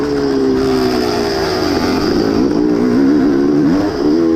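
The engine of a vintage dirt bike racing on a wooded course gives a loud, sustained buzzing roar whose pitch dips and climbs as the throttle changes, heard close and continuous.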